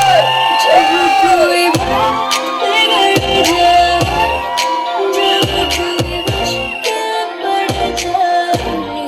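Crowd at a ring ceremony cheering, whooping and shouting with music playing, a loud, continuous, lively din.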